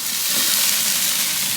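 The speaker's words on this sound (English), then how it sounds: "that sizzle, that's what you want" Skirt steak sizzles on a hot grill, a loud, continuous crackling hiss close up with no pauses.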